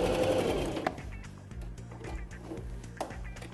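A Toyota Super Jeans 15 sewing machine stitches over a thick seam, its needle thumping in a steady, fast mechanical rhythm with a whirring motor, close and clear with no voices.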